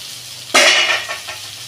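Vegetables for Bengali Gobindobhog rice khichuri hit a hot pan with a sudden loud sizzle, then keep frying with a steady hiss while being stirred. The sound fades slightly, with a couple of small bursts from the stirring.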